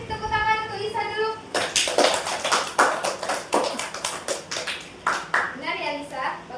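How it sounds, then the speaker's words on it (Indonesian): A classroom of students claps for a classmate during a microteaching lesson on cones, a quick burst of loud rhythmic clapping lasting a few seconds, with a teacher's voice before and after it. "tadi tepuk tangan untuk Lisa dulu"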